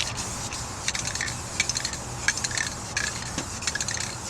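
A continuous hissing spray from an aerosol can, with faint clicks and rattles scattered through it.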